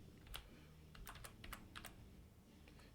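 Keys clack on a computer keyboard in a run of irregular taps, close and fairly quiet, with no talking.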